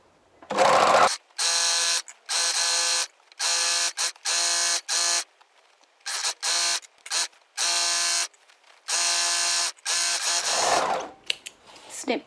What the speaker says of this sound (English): Now I'm going to overlock those two side seams, so I'm going to sew down one side and then back up the other